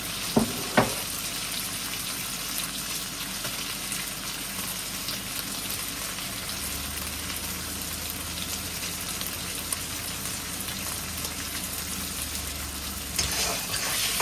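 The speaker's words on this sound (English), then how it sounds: "I just got my beef, and I'm gonna fry this up a little bit" Beef strips frying in very hot oil for a stir fry with oyster sauce, a steady close crackling sizzle that runs the whole time with a couple of sharp pops near the start.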